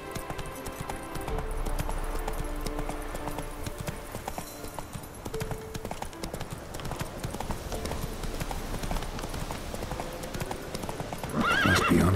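A horse in The Witcher 3: Wild Hunt gallops in a fast, steady clip-clop of hooves, close and loud, and ends with a sharp whinny.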